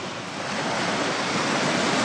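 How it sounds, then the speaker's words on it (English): Steady broadband rush of wind and choppy lake waves while paddling a small boat into a headwind, continuous and fairly loud with no talking. "So now I'm paddling into a headwind and the waves got bigger."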